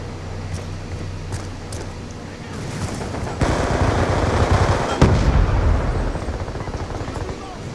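Rapid video game gunfire from a Remington shotgun and other weapons crackles loudly in dense bursts, with sharp blasts piling into a continuous roar of shooting and explosions that swells in the second half.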